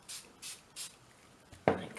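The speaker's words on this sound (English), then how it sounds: "Rub it up, rub it around, and then just rub it in your hands." Hands rub and scrunch damp dyed cheesecloth after it is sprayed with yellow dye and water; three soft rhythmic swishes, then a closer, louder rustle, faint and with no talk.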